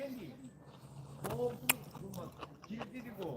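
Braised short ribs being bitten and chewed close to the microphone, with soft wet mastication and a sharp bite, while a voice hums and murmurs over the eating.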